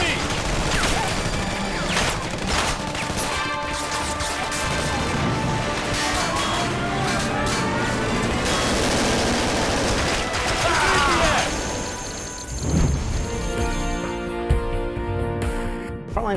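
Gunfire in the futuristic first-person shooter Frontlines: Fuel of War, with dense bursts and crashing impacts layered over battle chatter and game sound throughout.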